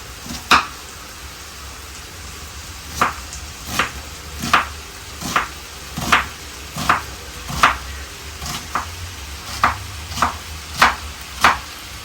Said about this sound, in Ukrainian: Дрібно ріжу цибульку і два зубчика чесничку